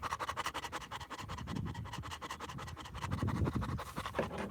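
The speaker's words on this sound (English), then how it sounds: "All you guys can probably hear is the dog breathing hard." Rapid, rhythmic panting from a dog up close, quick breaths repeating steadily, with some scratchy rustling mixed in.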